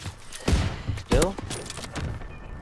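Heavy gunshot bursts in a World War 2 video game, two loud booming shots about half a second apart over game ambience, with a voice talking in the background.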